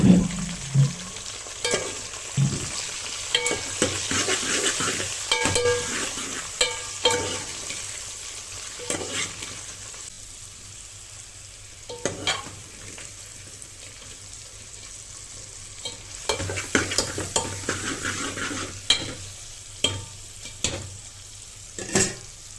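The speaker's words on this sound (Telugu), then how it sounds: "ఇప్పుడు ఒకసారి బాగా కలుపుకుందాం." Okra tamarind curry gets stirred in a pan over a continuous frying sizzle, with repeated sharp scrapes and clinks of the spoon against the pan in an uneven rhythm, close and moderately loud, with no talk.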